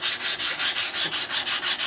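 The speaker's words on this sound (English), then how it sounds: "it's going to end up sanding all the way across those edges" Rhythmic back-and-forth strokes of sandpaper across the edges of a knife handle, about ten even passes in under two seconds, close and alone.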